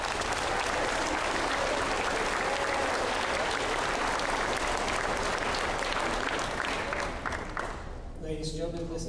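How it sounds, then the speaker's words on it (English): Dense applause from the audience at a junior high school band spring concert, loud and continuous, tapering near the end as a voice begins to speak. "If you could please give them a round of applause."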